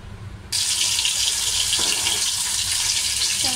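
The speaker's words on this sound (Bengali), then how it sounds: "তো এখন এই মাছটা ভেজে নিই" A piece of fish frying in a pan in a home kitchen, a steady bright sizzle that bursts in suddenly after a quiet start and holds loud and close for the rest.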